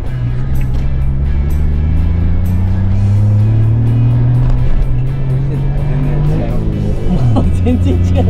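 A Suzuki Jimny JB64 with an ECU tune and changed tyres climbs a hill in second gear after a downshift from third, its engine a loud, steady droning roar that rises in pitch, with people talking over it.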